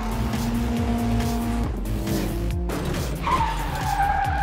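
Cartoon race cars skid and screech through a race: loud, continuous engine roar with long tire squeals and sliding noises, close up, ending in a rising high-pitched screech.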